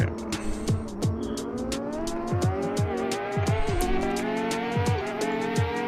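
A Ducati motorcycle in a racing video game accelerates hard, its engine whine climbing steadily in pitch, with repeated sharp ticks and clicks punctuating the rising drone throughout.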